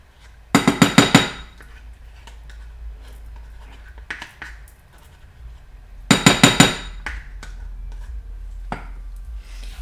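A small cup knocked and clinked around a kitchen while making food, two bursts of quick sharp hard taps near 0.5 and 6 seconds, with scattered lighter knocks between, close and fairly loud.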